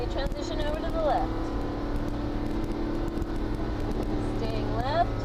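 Mercedes SLS AMG engine on the Atlanta Motorsports Park race track, a steady loud drone building under throttle, with someone talking over it throughout.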